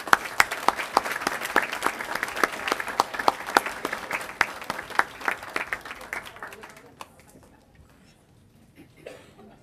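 Applause for visiting elementary school students fills a school district board meeting room: sharp, distinct claps go on for about seven seconds, then fade out to near silence.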